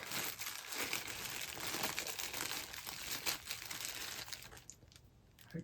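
A small plastic zip bag crinkles steadily as it is handled during a gift-box unboxing, a soft, continuous rustling close up with no talking.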